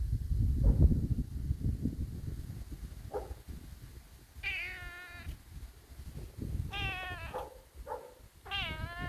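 A cat meows several times in clear, close, drawn-out calls, with soft rustling and handling noise between them in a garden.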